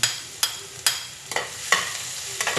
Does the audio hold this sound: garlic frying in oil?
yes